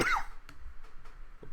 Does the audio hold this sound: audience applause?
no